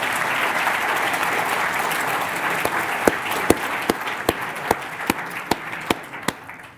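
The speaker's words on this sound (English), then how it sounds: "Another round of applause." An audience claps steadily at a science prize medal ceremony, dense sustained applause with a few sharp individual claps standing out near the end.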